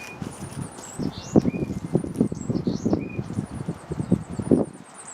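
A bird flaps its wings in a garden with raked leaves, giving soft irregular fluttering and rustling bursts over a steady outdoor background, with faint high chirps and whistles from other birds scattered throughout.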